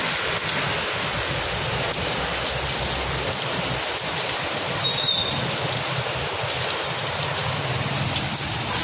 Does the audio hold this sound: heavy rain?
yes